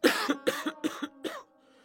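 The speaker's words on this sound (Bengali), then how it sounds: "আর এই কাশি" A man who has been ill for months coughs four times in a quick, even rhythm, each harsh burst close and clear, then silence.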